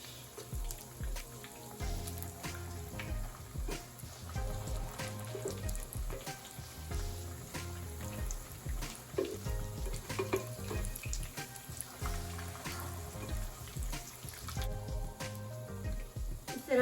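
Aloo tikki potato patties frying in a pan, a steady crackling sizzle with bursts of popping and occasional clinks, close and continuous with no talking.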